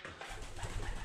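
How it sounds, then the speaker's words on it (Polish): Pigeons coo steadily inside an abandoned church, a low rolling murmur of several birds close by, continuous throughout with no talk. "Wszędzie pełno gołębi."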